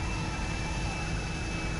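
A jet airplane roars in a PS4 video game, a steady loud engine rush with a thin high whine running through it, continuous throughout with no talking.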